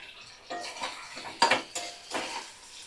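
Masala of ginger-garlic paste, cumin, green chilli, onion, tomato and potato being fried in a pan, heard as a few soft scraping strokes and metallic clinks of a spoon against the pan, close but quiet.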